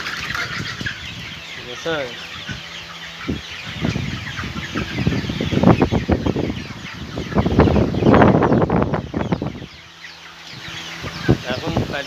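Chickens on a farm cluck and squawk throughout, with a few louder bursts and some wing flapping, while someone talks over them.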